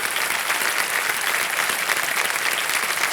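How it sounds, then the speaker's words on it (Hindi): A studio audience on the Kaun Banega Crorepati quiz show claps continuously for a contestant, a dense, even burst of applause with no talking over it. "तालियां बज जाए इनके लिए एक बार फिर."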